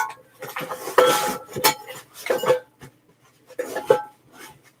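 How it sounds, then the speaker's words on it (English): Metal camping cookware, including a saucepan, clinks and clatters as it is handled and packed into a heavy bushcraft backpack, with several bursts of rattling separated by short pauses, close and moderately loud. "So I'll put the saucepan flat."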